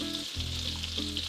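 Butter sizzling in a pan during spaghetti carbonara cooking, a soft continuous frying hiss close by, with faint bumps of the pan under it.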